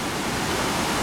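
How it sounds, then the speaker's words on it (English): The flooding Pitt River rushes past at high flow, a loud, steady, broadband roar of churning water with no pauses and no voices. "the Pitt River in all its glory."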